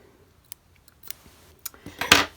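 Scissors snip through blue crochet yarn on an Easter bunny basket: a few faint, scattered clicks build to a louder, close cut near the end, with no talking.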